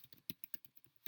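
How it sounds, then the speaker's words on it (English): Rapid keystrokes on a computer keyboard, a quick irregular run of light clicks close by, faint and alone with no talking. "maybe I'll try typing the word"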